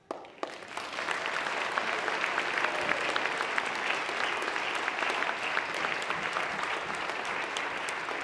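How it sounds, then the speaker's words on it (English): An audience breaks into applause for a group of children, starting with a few scattered claps that quickly swell into a full, even round of clapping that holds steady to the end. "Give them some applause."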